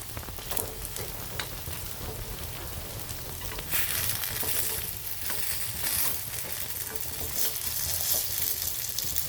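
A potato and poha snack frying in a pan, a dense continuous sizzle and crackle that swells louder partway through, with faint stirring scrapes and no speech.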